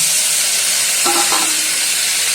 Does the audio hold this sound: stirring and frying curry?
yes